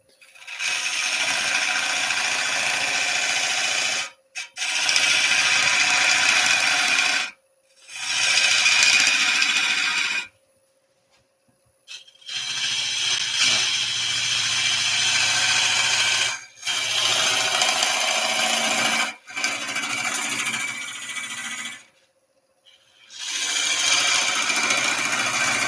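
Woodturning lathe shaping a yew hollow form, a loud rasping scrape of the tool against the spinning wood in long sustained passes broken by short pauses, close and continuous with no talk.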